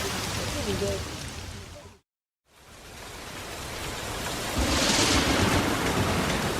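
Heavy storm rain pours down as a dense, loud, steady roar that cuts out for a moment and then swells back louder; voices are heard talking faintly under it.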